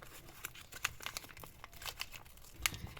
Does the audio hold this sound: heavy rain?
no